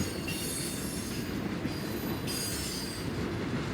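A Central Indiana & Western Railroad freight train rolls past nearby in Anderson, Indiana, a continuous rumble of heavy wheels on rails with high metallic squealing and hiss throughout.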